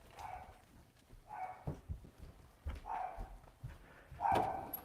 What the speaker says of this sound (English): What are you guys barking at, man?